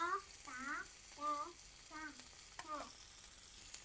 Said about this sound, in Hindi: यहाँ पे हमारा मक्खन गरम हो गया है, अब हम इसमें डाल देंगे प्याज और साथ में हरी मिर्ची